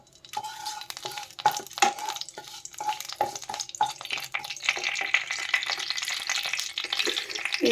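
A dry red chili and two bay leaves dropped into hot oil, giving a loud, close sizzle with crackling spatter and stirring clatter that builds and stays steady, no talking.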